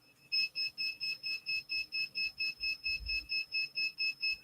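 A second pinpointer metal detector gives a loud, even series of about fifteen short electronic beeps in a regular rhythm, close and clear, with a light low thump partway through and no talk.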